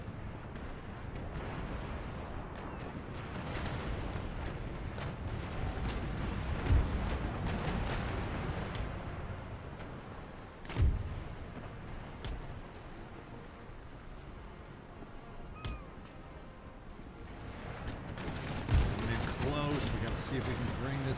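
Cannon and musket fire in the naval battle game Empire Total War, modded with Darthmod, rumble and boom in a dense, continuous din with scattered heavier blasts, while someone talks over the fighting.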